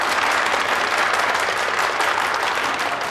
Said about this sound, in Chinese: 大家鼓掌啊！热烈欢迎